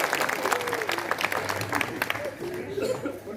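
Applause from an audience at a village poetry recital held for a Ram Navami gathering, a steady wash of clapping with scattered voices and murmuring throughout.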